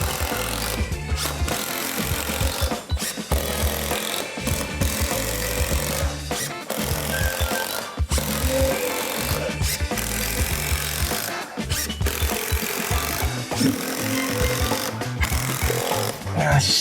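A power driver sends 65 mm screws up into wood from below while building a bed headboard from cafe boards, giving loud repeated whirring bursts separated by brief pauses, close and continuous over a steady background.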